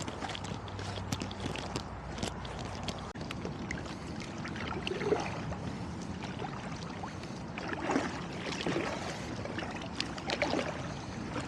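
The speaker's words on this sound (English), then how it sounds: "I think we'll paddle the shoreline" A kayak paddles along a Brooklyn shoreline near Mau Mau Island, soft irregular water splashes and drips from the paddle strokes, quiet and close against faint outdoor background.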